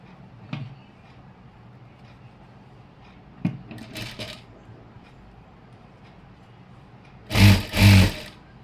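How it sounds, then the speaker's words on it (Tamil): A sewing machine runs in two short, loud bursts near the end, stitching the edge of chudithar pants after quieter handling and rustling of fabric. "ஓரமாக அப்படியே தையல் போட்டுக்க வேண்டியதுதான்"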